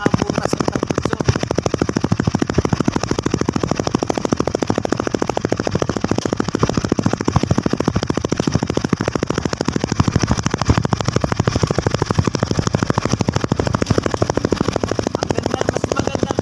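Honda Winner X motorcycle exhaust recorded right at the tailpipe, a loud, rapid, steady idle putter with dense regular pulses throughout.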